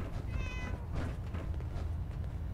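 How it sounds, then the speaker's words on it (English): A cat in the Fallout 4 video game gives a short, clear meow early on, heard over a steady background of game ambience with no talking. "Aw, kitty cat."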